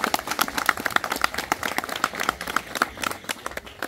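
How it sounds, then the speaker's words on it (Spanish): Applause for a student at a telesecundaria school closing ceremony, a dense crowd of hands clapping steadily and moderately loud for the full stretch with no talk over it. "Un fuerte aplauso para ella."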